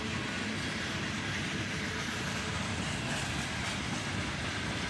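A CSX freight train of boxcars passes close on a cold, rainy day, led by three locomotives: an ES40DC, an AC44CW and an EMD GP40-2. A dense, steady rumble and rush of wheels on rail holds for the whole stretch.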